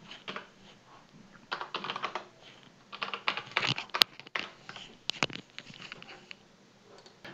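Rapid typing on a computer keyboard, with bursts of close, crisp key clicks and short pauses while logging in to a web app.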